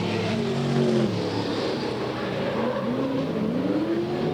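Loud, continuous roar of Super Sedan race cars on Yandina Speedway, pitch rising and falling as cars rev and sweep past, with tires squealing.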